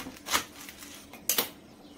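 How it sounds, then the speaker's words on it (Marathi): Two sharp knife strikes through a roll of colocasia (alu) leaves and stems on a board, close and crisp, spaced about a second apart with quiet between. "हे बघा, अशा प्रकारे म्हणजे देठ आणि पानं दोन्ही सुद्धा एकसाथ चिरलं जातं"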